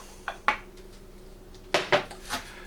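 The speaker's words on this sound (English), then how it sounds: "you want to stir that together" Melted butter being stirred into crushed cookies in a bowl for a Halloween dirt cake, heard as a few sharp utensil clinks and scrapes against the bowl in two short bursts.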